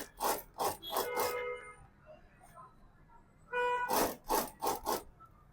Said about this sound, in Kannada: ಈಗ ಸ್ಟಿಚ್ ಮಾಡಿ ತೋರಿಸ್ತೀನಿ ನೋಡಿ